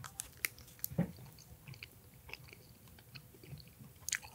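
Bilar, Swedish car-shaped gummy candy, being chewed up close: soft, sticky mouth sounds with a few sharper bites, faint and intermittent, with no talking.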